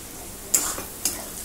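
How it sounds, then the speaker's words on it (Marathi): Onion frying in a pan with ginger-garlic paste added, for pav bhaji; a steady sizzle with two sharp scraping stirs of a spoon against the pan, close and fairly loud. "आता कांदा हा चांगला लाल रंगावरती मी भाजून घेते"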